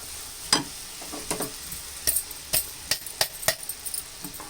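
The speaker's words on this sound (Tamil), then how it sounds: "இப்போ திரும்ப இந்த மாவு கொட்டிட்டு கிளறிட்டு ஸ்டவ் ஆஃப் பண்ணிடணும்" A spoon stirs gram flour into hot sugar syrup in a pan for a motichoor ladoo mixture, making sharp, irregular scraping clinks and taps against the metal over a faint background hiss, with no voices.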